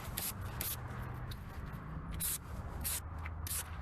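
Short bursts of protectant are sprayed under a car hood, several quick hissing puffs in an irregular rhythm over a quiet, faint background of rustling.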